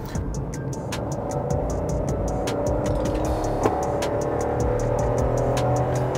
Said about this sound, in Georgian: ეს ძრავის ხმა შემოდის საკმაოდ კარგად.